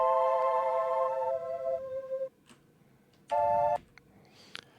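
Two sustained seventh chords from an EP-133 K.O. II sampler with bright harmonic tones, the first held about two seconds, then a short second stab after a pause, clean and fairly loud.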